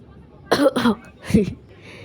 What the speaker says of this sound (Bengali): কাশতেছি।